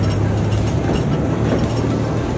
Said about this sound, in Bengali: ট্রেন ছেড়ে দিয়েছে